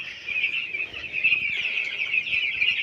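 Broiler chickens on a village farm in hot weather give a continuous chorus of high clucking and chirping, moderately close, with no talk.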